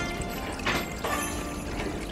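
Water poured over coins in a basket at the coin-washing basin of Koami Shrine, a steady splashing pour with two brief louder gushes, close by, over constant background noise.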